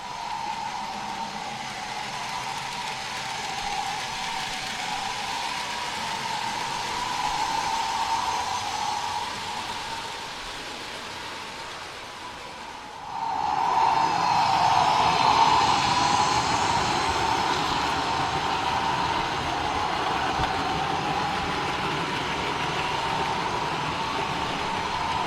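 An OO gauge model gas turbine locomotive hauls a 21-wagon train, giving a steady, loud whine and rushing drone throughout that dips briefly midway and then swells louder as it passes close.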